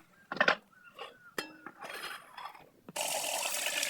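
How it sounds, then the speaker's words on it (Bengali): Several metallic clinks and clanks as a lid is set on a pot of fish curry with water added, followed by a steady, rushing hiss. "পানি দিয়ে ঢাকা দিয়ে দেবো।"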